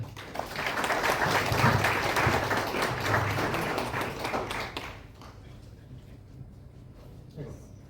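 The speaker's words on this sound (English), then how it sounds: "A round of applause for Anandita." Conference audience applauding a speaker, a dense, sustained patter of clapping for about five seconds that then cuts off, leaving quiet room noise and a brief sound near the end.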